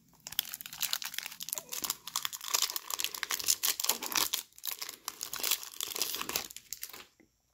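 A foil wrapper on a 2019 Bowman Draft Jumbo baseball card pack is torn and crumpled by hand, with dense close crinkling and tearing that continues for several seconds and then stops.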